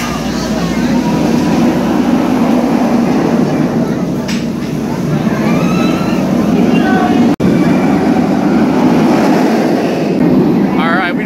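Loud, constant rumble and wind roar of a front-row ride on the Rougarou roller coaster at Cedar Point, rattling steadily with a sharp click partway through.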